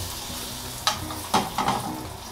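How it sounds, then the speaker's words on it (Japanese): Swordfish fillet pan-frying slowly over low heat, a steady soft sizzle with a few louder clatters as the fish is shifted or turned in the pan. "弱火で、じっくりと焼いていくのがコツですけどもね"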